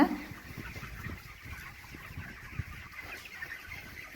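Broiler chickens cluck softly in a steady chorus, a crowded flock murmuring close by in a poultry farm, with no talking.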